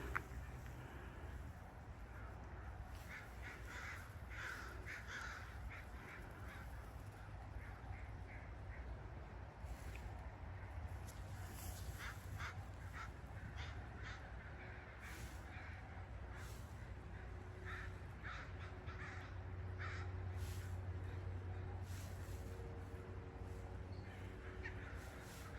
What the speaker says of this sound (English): You've been hearing birds. There's just been hundreds of them.